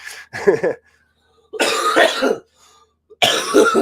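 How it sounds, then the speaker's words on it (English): Three bursts of harsh coughing close to the microphone, separated by brief pauses, the first short and the later two longer and rougher. "Excuse my bad cough"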